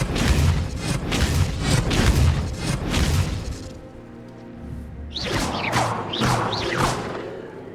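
The Expelliarmus spell is cast in the Hogwarts Legacy video game as a loud rush of booming, whooshing magic effects. The sound fades briefly, then returns with sweeping swishes and thumps.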